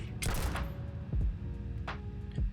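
Gunfire in the video game Starfield comes as several quick, sharp shot bursts spaced irregularly over a steady low game background, loud and close, with no voice over them.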